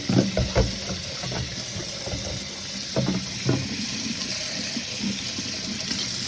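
Very hot water runs steadily from a tap while plant pots are washed off, a close continuous gush with brief clatters and splashes breaking through.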